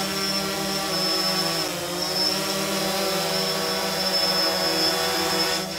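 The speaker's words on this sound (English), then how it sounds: "we're outside testing of the drone right there" A camera drone hovers on a test flight outdoors, its propellers giving a steady, close, whining buzz with layered tonal harmonics that shift slightly in pitch, loud and continuous with no talking.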